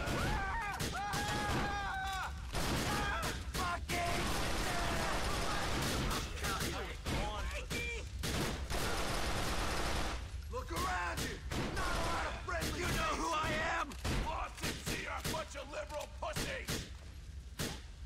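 Gunfire in the video game GTA: The Lost and Damned, dense bursts of rapid shots and heavy thumps filling the scene almost continuously and loudly, with voices shouting underneath.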